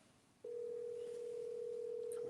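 A steady telephone dial tone, a single unbroken pitch that starts suddenly and holds, heard quietly and alone.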